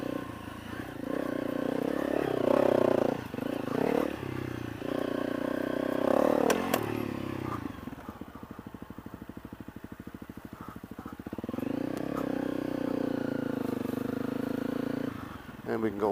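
A 2017 Honda CRF250L dirt bike rides off road, its single-cylinder engine droning steadily and rising with throttle, easing to a rougher putter midway, with the rider talking over it.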